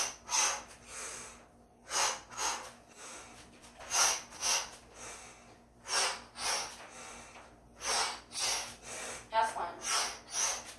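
Deep, regular breaths during a yoga exercise, about a dozen loud breathy inhales and exhales close to the listener in a steady rhythm, with no words spoken.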